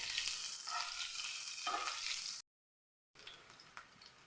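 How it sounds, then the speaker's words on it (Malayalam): Curry leaves with ginger and garlic fry in hot oil, a steady close sizzle broken by a brief silent gap, then resuming. "കറിവേപ്പില നല്ല പോലെ ഒന്ന് മുരിഞ്ഞു വരട്ടെ"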